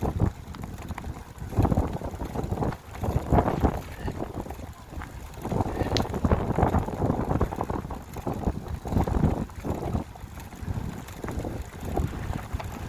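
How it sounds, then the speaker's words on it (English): Gusty wind buffets the microphone throughout an electric-assist bike ride, rumbling and roaring in uneven bursts with no speech. "Bit windy out today, but not too bad."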